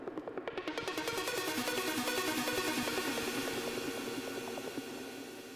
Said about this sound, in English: Other than that, I have these arps here.